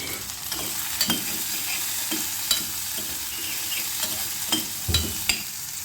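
Onion and salt sautéing in oil in a pan for Tamil vatha kuzhambu, with a steady close sizzle and a few scraping stirs of the spoon spaced through it.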